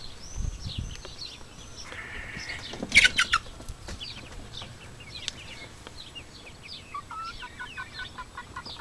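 Borkovskaya Barvistaya hens cluck and squawk softly in a poultry yard, with scattered bird calls and a brief wing flap. The sounds are fairly faint and distant, with a steady outdoor background.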